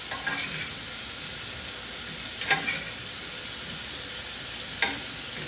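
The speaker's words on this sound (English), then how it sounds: "And I'm gonna keep cooking this broccoli." Shrimp and broccoli fry in a pan with a continuous bright sizzle, broken by two short sharp clicks or stirring knocks a few seconds apart, and no one speaking.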